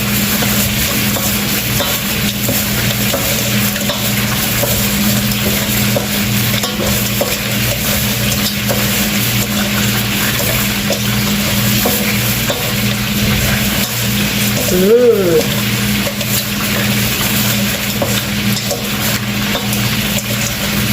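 Shrimp being stirred and mixed with honey barbecue sauce in a bowl, a steady wet swishing and stirring texture over a constant low background hum, with one brief louder scrape near the end.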